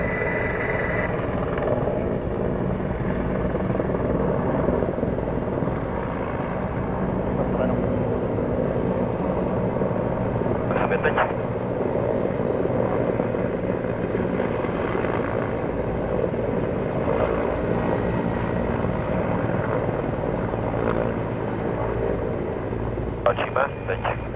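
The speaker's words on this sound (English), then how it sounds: "It's the My-171 on the left as they come in head-on towards us." Mi-171 helicopters at the Duxford Battle of Britain air show approach head-on with a loud, steady rotor and engine roar that fills the whole stretch, while a commentator talks over it.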